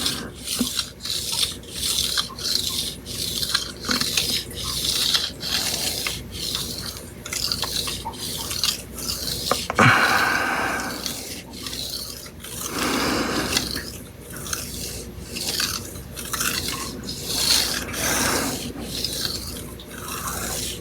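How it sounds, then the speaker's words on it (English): Kitchen knife stroked back and forth on a Dragon series whetstone in a polishing pass, steady rhythmic rasping scrapes repeating about every second, close and alone with no talking. "This is more or less polishing the knife"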